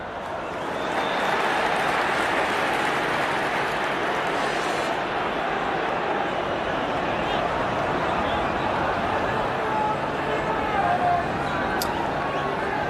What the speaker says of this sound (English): We've just lost the line to Anfield, so you can hear the crowd in the background, but no John Murray or Robbie Savage